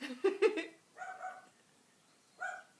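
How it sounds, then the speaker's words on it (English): A small dog yaps a few times nearby, quick high-pitched barks in a short burst, then a pause and one more yip. "doggies are barking, and that's not my husky barking"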